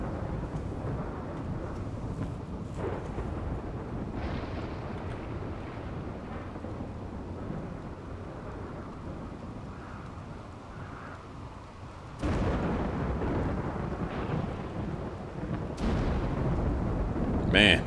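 A thunderstorm in the video game Rimworld rumbles on with continuous rain and wind noise, with sharp lightning cracks breaking in loudly about two-thirds through and again near the end.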